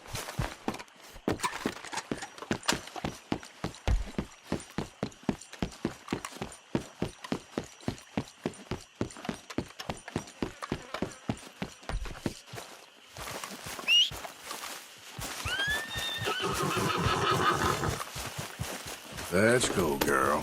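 Rhythmic clip-clop of a horse's hooves walking steadily in a video game, close and clear, followed by a brief whinny and rustling movement near the end; a voice talks over part of it.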